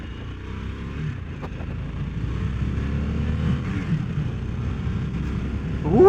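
A 2021 Harley-Davidson Sportster S with its Revolution Max 1250T engine accelerates on the road in a steady low rumbling drone that slowly builds and swells louder near the end.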